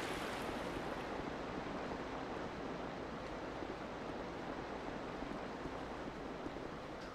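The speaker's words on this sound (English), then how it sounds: "Oh, that was the waterfall." A waterfall in the video game Dark Souls II roars as a steady, broad rush of falling water, continuous and even throughout with no talking over it.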